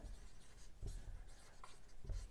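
Pen or chalk writing out a Hindi grammar note, heard as soft, close scratching strokes in short bursts with brief pauses between them.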